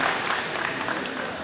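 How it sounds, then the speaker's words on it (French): Brief applause for a young winner at a judo championship in Marseille, a short dense burst of crowd clapping in a hall, lasting about a second and a half. "On peut l'applaudir bien fort."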